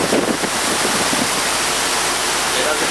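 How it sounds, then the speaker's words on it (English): Air conditioning airflow in an Otis traction elevator machine room at the Marriott Marquis in Atlanta, a loud, steady broadband rush of moving air without pause. "That's the cool heat from the air conditioning system"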